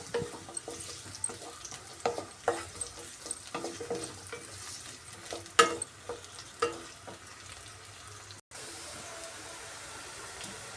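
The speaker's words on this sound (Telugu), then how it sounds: "మనము తీసుకున్న ఎర్రగడ్డలు సన్నగా కట్ చేసుకున్నాం కదా అవి ఫ్రై చేసుకుందామండి" Thinly sliced onions frying in a pan for prawn curry, with a steady sizzle under repeated stirring scrapes and clicks from a spoon, fairly close; the sizzle carries on alone near the end.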